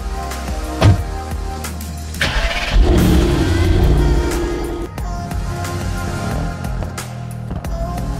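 A car carrying a bicycle on a rack starts up and pulls away, its engine rising steadily from a low rumble as it accelerates nearby, with a few knocks and rattles along the way.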